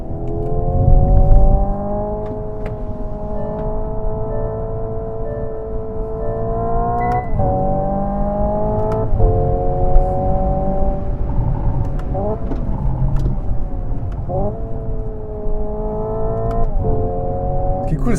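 Hyundai Ioniq 5 N electric car accelerating in sport mode with manual mode on, along small roads. A synthetic engine tone rises in pitch and cuts back sharply at each simulated gear shift, repeating several times over a steady road rumble.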